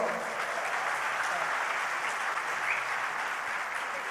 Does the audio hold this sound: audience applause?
yes